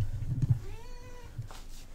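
A single drawn-out cat meow rises and falls in the middle, over low rumbling handling noise and soft background hum.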